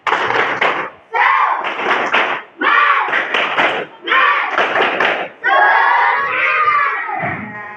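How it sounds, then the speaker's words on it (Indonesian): A primary-school class performs a rhythmic 'tepuk semangat' clapping chant, loud group voices shouting in five or six short bursts with claps and brief pauses between, ending in a longer drawn-out call. "Coba tepuk semangat ayo."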